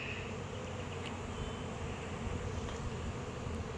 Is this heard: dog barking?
no